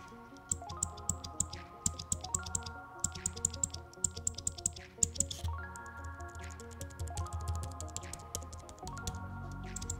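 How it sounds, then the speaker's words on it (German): Typing on a Logitech Craft keyboard with a squeaky spacebar, a rapid, steady run of close key clicks in bursts, backed by a layered musical tone. "Was mir auch nicht gefallen hat, ist die Leertaste, welche ein quietschendes Geräusch macht."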